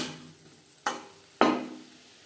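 Tomatoes with turmeric and salt are stirred in a pan, two sharp scraping strokes of a spoon standing out over a quiet sizzle, each fading off, near and clear.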